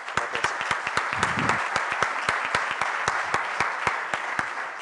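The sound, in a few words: audience applause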